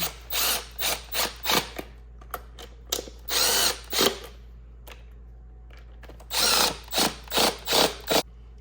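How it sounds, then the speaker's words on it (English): Power tool driving 10mm airbox screws on a Honda VTX motorcycle, firing in short, sharp ratcheting bursts in quick rhythmic groups with quiet gaps between, close and clear. "Tighten these 3 screws up."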